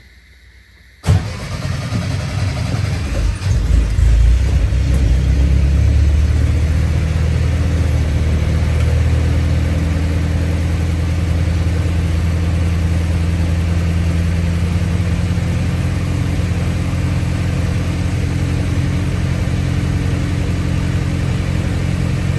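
A vehicle engine cranks and catches with a sharp burst, then settles into a steady, loud idle in neutral that continues evenly for the rest of the clip, close by with no talking.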